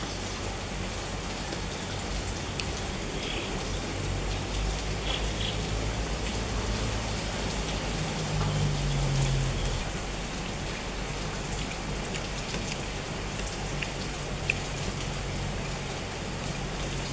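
Steady, dense rain pattering on a surface nearby, a constant hiss with scattered heavier drops throughout.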